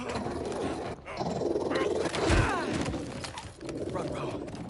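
Dog growling and snarling from a robotic dog enemy in the Spider-Man 2 video game, rising to a loud burst midway over busy game sound effects and a voice talking.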